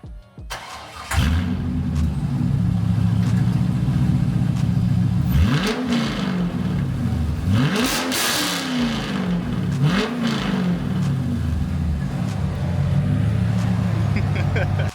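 Chevrolet Corvette C5 with its mufflers removed cranks and fires up, then idles loudly with several sharp revs rising and falling, while people talk nearby.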